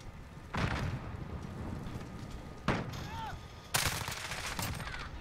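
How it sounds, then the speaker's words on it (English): Gunfire aimed at the player in Modern Warfare comes as several sharp bursts spread out over a steady low background, fairly quiet overall, with a few faint whistling zips between shots. "That boy pre-firing the shit out of me."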